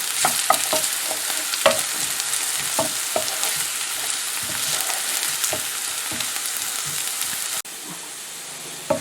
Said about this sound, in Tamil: இப்போ இதுக்கு வதங்கிட்டு நல்லா.